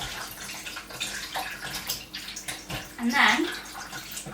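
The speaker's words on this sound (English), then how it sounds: "Let me just rinse my hands off." Tap water runs steadily in a kitchen sink as hands are rinsed mid-bake, a close, constant splashing with a brief brighter surge near the end and a voice speaking briefly.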